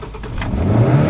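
A 2011 Ford Ranger's 2.3L engine revs loud and close with its throttle stuck, the pitch climbing steadily over about a second.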